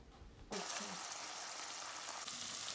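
Smoked fish sizzles and crackles loudly in a hot pan, a steady frying hiss that begins abruptly and continues throughout.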